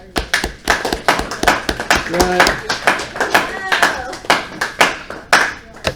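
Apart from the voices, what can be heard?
audience applause for a student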